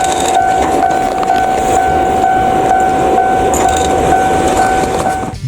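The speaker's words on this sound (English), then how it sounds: "Operated by BNSF Railway, this machine represents the modern evolution of classic rotary snowplows." BNSF Railway rotary snowplow train rolls past close by with a loud continuous rumble, clacking wheels and a sustained horn-like tone over the whole run, with no voices.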